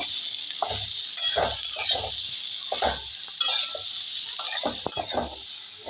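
Chopped bottle gourd sizzles steadily in a hot pan for a lau chingri dish, with a spatula stirring and scraping in repeated bursts of close, clear strokes and no talking.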